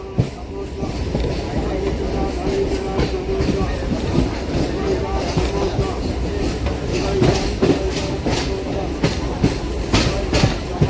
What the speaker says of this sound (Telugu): నెక్కొండ స్టేషన్ నుంచి బయలుదేరిపోయామండి.